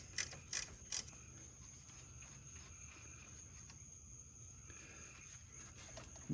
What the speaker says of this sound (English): Get these caliper bolts the rest of the way out.